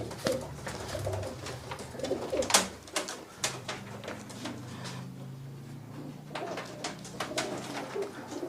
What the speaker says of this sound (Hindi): अब ये जो कबूतर है आरिफ भाई,